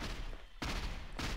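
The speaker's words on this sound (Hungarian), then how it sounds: "Mondjuk itt van ez a tuti lövés." Loud bursts of gunfire in Half-Life 2 ring out in two heavy, noisy blasts about half a second apart, close and booming, each followed by a brief rumbling decay.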